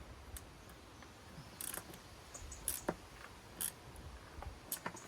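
A spanner ratchets as a bolt is tightened down while mounting SeaMax Deluxe 4x4 transom wheels, giving quiet, scattered metallic clicks and short tool rattles over a faint background, with no talking.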